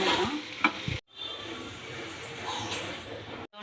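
Tomatoes with a pinch of salt cook in a pan for a tomato-peanut chutney, with a steady soft sizzle, scraping stirs and a brief clink near the start, broken by two short silences.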